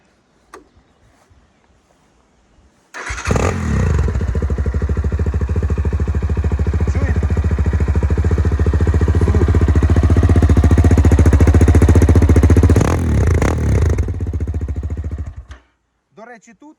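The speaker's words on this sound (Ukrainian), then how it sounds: "я вам хочу ще продемонструвати, як працюють два мотора різні" A Chinese Spark motorcycle engine starts abruptly and runs at a steady, rapid rumbling idle for about twelve seconds, loud and close, then cuts off.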